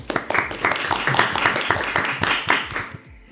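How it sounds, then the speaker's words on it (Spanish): A university audience claps to welcome a law professor, a brisk burst of distinct, close handclaps with a quick uneven rhythm that fades out near the end. "Un aplauso, por favor."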